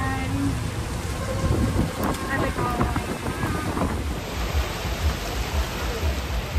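Steady rain falls in Boracay, a close, continuous hiss and patter on surfaces with low rumbling underneath, heavy enough to fill the whole scene.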